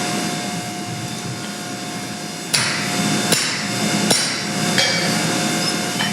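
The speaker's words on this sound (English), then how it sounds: "Flat side of the hammer so you don't dent it." Hammer blows on hot steel while forging an axe at a blacksmith hammer-in demo: three or four sharp, ringing strikes spaced about a second apart over a steady loud background hum.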